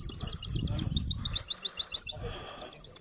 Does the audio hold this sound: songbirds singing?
yes